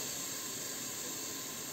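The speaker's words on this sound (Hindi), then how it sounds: "इसमें हम तो थोड़ा सा हम राइस का फ्राई करेंगे, ज़्यादा नहीं।" Rice sizzles and hisses steadily in a hot pot while being fried for Moroccan harira soup, a soft, even crackling that holds without a break.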